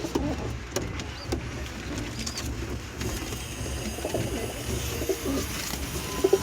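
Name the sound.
pigeons cooing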